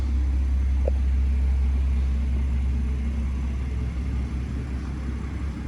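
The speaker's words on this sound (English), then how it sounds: "Obviously the car is stationary at the moment, and so It sounds a little bit different when the car's under load" A BMW 340i M Sport with an M Performance exhaust idles while stationary, with a deep, steady exhaust rumble, constant and close, with no talking over it.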